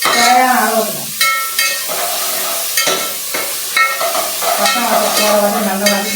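Ginger garlic paste sautéing in a pan for veg biryani, with a steady sizzle under repeated spoon scrapes and stirring clatter, close and fairly loud, with no talk.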